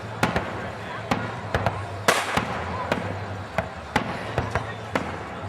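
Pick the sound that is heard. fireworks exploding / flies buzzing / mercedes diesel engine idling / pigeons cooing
fireworks exploding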